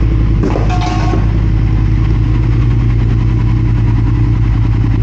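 A 2022 Triumph Speed Twin motorcycle fitted with an X pipe idles steadily up close, a loud, even low rumble running throughout with a brief clatter near the start.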